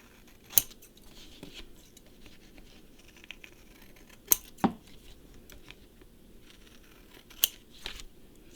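Several sharp, isolated snips as scissors trim overhanging material from a writing pad folio, spaced a few seconds apart over a quiet background with faint handling scratches.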